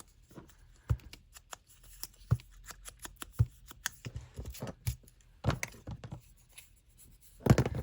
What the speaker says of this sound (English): Again, give it a crumple.